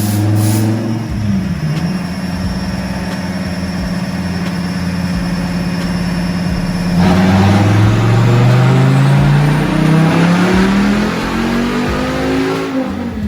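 Dodge Viper ACR with a nitrous kit revving on a dyno, a loud steady engine roar holding one pitch, then climbing smoothly higher as the revs build, with no voices over it.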